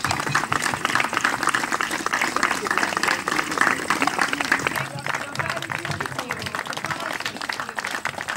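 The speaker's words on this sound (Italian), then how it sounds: "Un applauso!" An audience at an Italian fashion show applauds to welcome a Miss America titleholder, loud dense clapping throughout with cheering and voices mixed in, thinning slightly toward the end.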